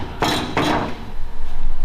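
A hammer taps clamped metal into place on the body of a heavily rusted-out Chevy Blazer. Two quick, close, loud taps are followed by a short stretch of rougher workshop noise.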